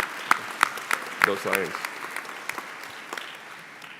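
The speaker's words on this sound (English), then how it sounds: "I'll applaud." Audience at a medical school commencement gives scattered, sparse applause, with distinct individual claps that thin out and fade over four seconds, while a voice calls out briefly.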